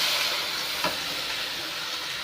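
Tomatoes going into sautéed onions for a village-style tomato thokku give a brief, steady, close sizzle with a faint stirring knock near the middle.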